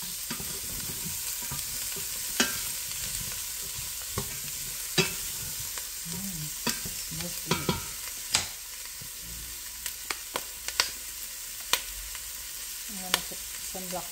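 Pig tails browning in a pot with no added oil give a steady low sizzle, broken by repeated scraping clicks of a spoon stirring, close and fairly quiet, with no talk.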